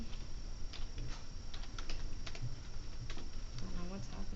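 Keys tap on a computer keyboard in short irregular bursts, faint and close, over a low background hum with some quiet speech.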